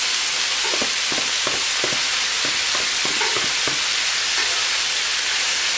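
Celery, onion, garlic and jalapeno saute in a pan with a constant bright sizzle, while a utensil scrapes and stirs in a series of irregular knocks close by.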